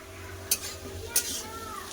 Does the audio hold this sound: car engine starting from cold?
no